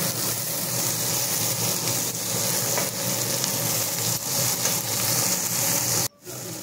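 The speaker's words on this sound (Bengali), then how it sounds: "তারপর আমার যে কেটে রাখা টমেটো ছিল সেই কাটা টমেটোগুলো আমি দিয়ে দিলাম।" Chopped tomatoes fry with spices in a pan for palak paneer, giving a continuous close sizzle with light stirring that cuts out abruptly near the end and then resumes briefly.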